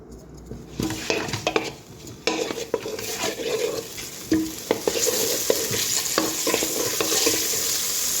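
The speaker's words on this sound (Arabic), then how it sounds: "حطيت 5 مغارف زيت حطيت الدجاج وليت نقلي فيهم مع بعضاهم." Chicken pieces frying in about five ladles of oil for Tlemcen-style harira, with a steady sizzle broken by repeated scraping stirs and clinks of a utensil against the pot, close and fairly loud throughout.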